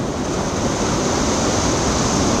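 A waterfall in a gorge gives a loud, continuous roar of rushing water, close and unbroken throughout.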